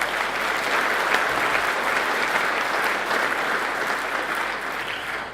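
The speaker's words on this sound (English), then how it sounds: "So I think a big round of applause for the TCCI would be appropriate as well." A large room of people at a chamber of commerce gathering gives a steady, enthusiastic round of applause, dense and even throughout with no voices over it.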